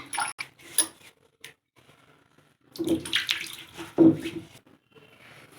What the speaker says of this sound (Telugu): రోలు కడిగి మంచిగా నీట్గా తుడుచుకోవాలండి